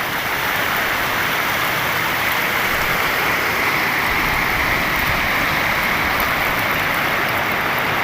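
Heavy monsoon rain falls in Konkan as a dense, steady roar of water that holds at one level throughout, with no voices over it.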